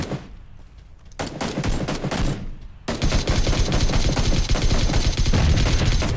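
Gunfire in the video game PUBG, with rapid automatic bursts that build into dense, continuous loud shooting, no talk.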